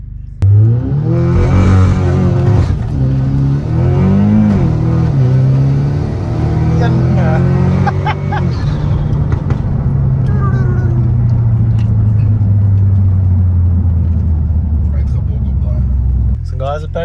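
Audi S3 engine revving hard with loud turbo flutter, rising and falling through several strong pulls, then settling into a steady low rumble; someone talks and exclaims over it.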